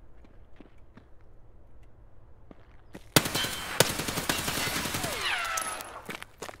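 Gunfire in Escape from Tarkov: after quiet footsteps and faint movement, a loud sharp shot opens a dense, close burst of automatic fire with ringing echoes and a falling whine, continuing to the end.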